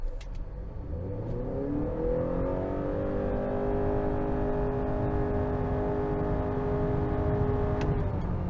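A 2021 Honda Accord Hybrid in sport mode launches from a standstill to 60 mph; the engine note climbs steeply for a few seconds, then holds a steady, strained drone.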